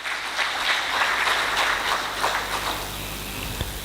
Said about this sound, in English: May I respectfully request that we appreciate the special guest of honor with another resounding round of applause.